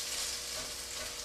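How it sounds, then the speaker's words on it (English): Andouille sausage searing in a hot pan for jambalaya gives a steady, dense sizzle, close and even throughout a brief moment, with no voices. "We're going to sear the andouille until it's nice and caramelized, a little bit, not burned, but really brown"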